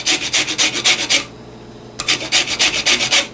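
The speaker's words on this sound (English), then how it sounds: "you're just going to just rub it on the grater like this" A lemon rubbed against a metal grater to zest it gives a close, steady run of rhythmic rasping strokes. The strokes pause for under a second, then start again.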